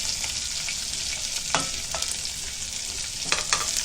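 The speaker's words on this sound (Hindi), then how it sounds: "अभी मिर्ची डाले, अभी राई जीरा हल्दी डालेंगे।" Chilies, mustard seeds, cumin and turmeric fry in hot oil for a yogurt curry, giving a steady close sizzle with a few sharp crackles and stirring knocks, and no talk.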